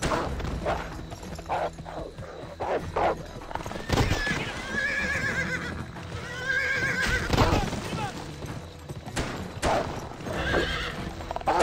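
Hooves clop rhythmically as a horse whinnies loudly twice in the video game GUN, with thuds and game-like effects around it.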